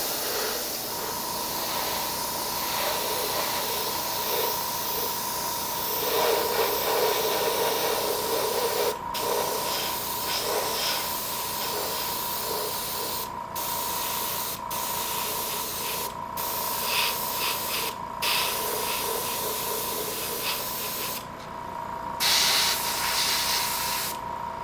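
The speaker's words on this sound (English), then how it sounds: "A little test shot here with my spray." A steady airbrush hiss spraying paint onto a 1:350 scale Enterprise refit model kit continuously for a long stretch, broken by a few brief pauses, close and fairly loud with no talking.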